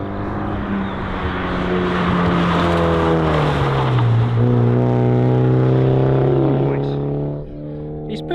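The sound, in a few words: Nurburgring race car driving past on track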